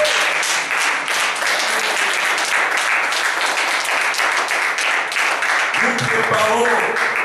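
A church congregation claps loudly and continuously, dense applause filling the room throughout, with voices mixed in and a few shouts rising near the end.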